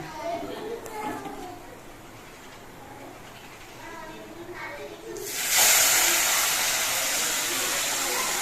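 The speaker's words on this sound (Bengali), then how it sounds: "সেই জন্য আমি যে কাপটা মেপে চাল নিয়েছি এই কাপেরই দু কাপ আমি জল দিয়ে দিচ্ছি" Two cups of water go into a hot pot of rice for Basanti pulao and burst into a loud, steady hiss of steam and sizzle, following a stretch of someone talking.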